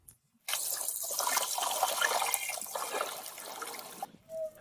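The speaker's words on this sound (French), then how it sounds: "Testons la cascade." A garden waterfall's rushing water pours steadily for about four seconds, a broad splashing flow that starts abruptly and cuts off near the end.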